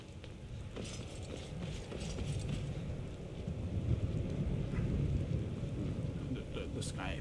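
Thunderstorm with rain in the Skyrim game world, a low steady rumble of thunder and wind under a constant hiss of rainfall, fairly faint, with a voice talking over it.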